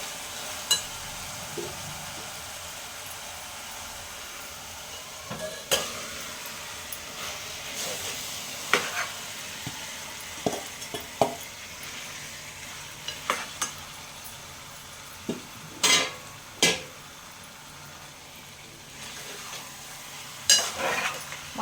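Onions sizzle softly in a pan, with scattered scrapes and taps of a spoon stirring through a steady low hiss.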